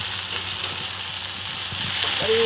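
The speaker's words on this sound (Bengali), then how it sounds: "এটা এবার একটুখানি কাঁচা গন্ধটা না যাওয়া অবধি একটুখানি ভালোভাবে তেলের মধ্যে নেড়ে নেবো" Ginger garlic paste stirred in hot oil in a pan while making vetki fish jhal, giving a continuous dense sizzle, close and steady, with faint stirring taps throughout.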